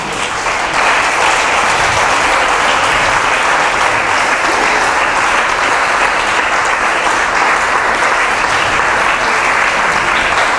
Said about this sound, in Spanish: un aplauso a nuestro Padre.